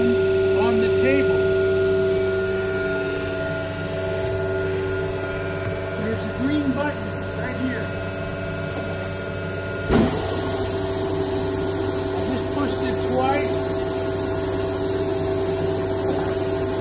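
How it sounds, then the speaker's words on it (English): The vacuum table on a Pratix S CNC router runs with a loud, steady electrical hum and airy whine, holding constant throughout, with a brief thump near the middle and faint voices beneath. "The only thing left to do is to turn the vacuum on the table."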